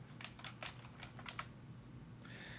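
Typing on a computer keyboard to enter a plugin name, with a short run of crisp, uneven keystrokes close to the mic over a low steady hum, and no talking.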